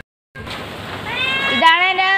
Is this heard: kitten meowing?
yes